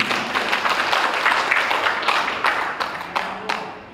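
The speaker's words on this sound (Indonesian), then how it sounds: "Tepuk tangan dulu" Applause from an audience at an official installation ceremony, a burst of many hands clapping that starts full and thins into scattered claps toward the end.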